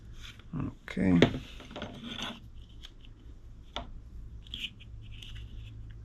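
Small aluminum bolts being fitted onto a Solex 4A1 carburetor during rebuild assembly: close, light metallic scraping and clicking handling noises in short bursts, strongest early on, with quieter taps and rubs afterward and no talk.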